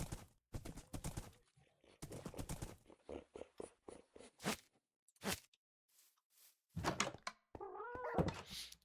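Cat meows inside the video game Forever World, a few short calls mixed with soft thuds and clip-clop-like footsteps, fairly faint.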